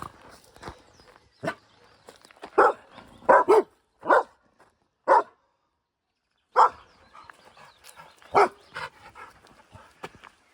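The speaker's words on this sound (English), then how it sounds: "Okay, dogs." Dogs bark in short separate bursts, several sharp woofs with pauses in between, some near and some farther off, heard along a Cumbria Way mountain route with footsteps underneath.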